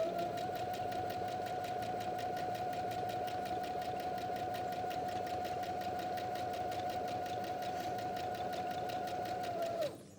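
A sewing machine runs a long, unbroken stretch of straight stitching on a travel placemat, with a steady close mechanical hum and rapid rhythmic needle clatter that stops abruptly at the end.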